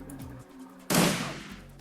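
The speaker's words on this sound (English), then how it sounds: "And use our shotgun." Shotgun blast in the cyberpunk fantasy game Shadowrun Returns, a single loud close boom that decays over about half a second after quieter game sounds.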